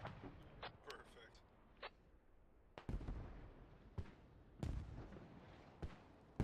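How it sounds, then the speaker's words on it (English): Mortar rounds fired by Russian forces in the military shooter game Squad land as a series of heavy, scattered booms and impacts, some sharp and loud, others more distant, spread irregularly over several seconds. "The Russian mortars coming in, seeing if they can pick off the Americans."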